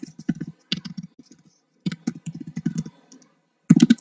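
Close computer keyboard typing and mouse clicking in short irregular bursts of quick taps, separated by brief pauses, with no talking.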